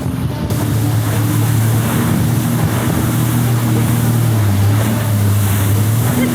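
Loud, continuous jet ski engine roar on choppy, flooded river water, with wind buffeting and water rushing, the engine pitch wavering slightly and stumbling from possible bad gas as it runs close by.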